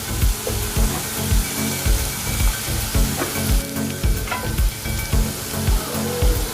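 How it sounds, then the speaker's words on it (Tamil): Onions fry in a pan with salt, a steady crackling sizzle running throughout, broken by regular low thumps and scrapes of stirring in a repeating rhythm, close and fairly loud with no talking. "ஆனியன் கொஞ்சம் ஃப்ரை ஆகட்டும்."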